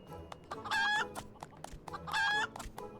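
Rooster in Final Fantasy XIV clucking and crowing in two loud bursts, each with a short rising call, separated by scattered soft clucks and small knocks.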